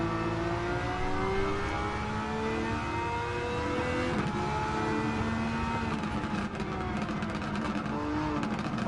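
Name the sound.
raspy E-swap race car engine accelerating in race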